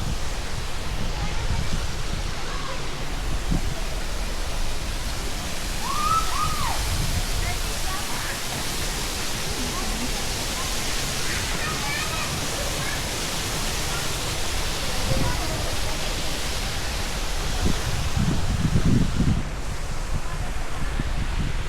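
Rushing river water pours on in a steady, loud, broad wash the whole time, with faint splashes and low thumps showing through in places.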